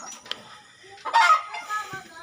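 Chickens cluck and squawk nearby in short bursts, one louder outburst in the middle, with some background noise around them.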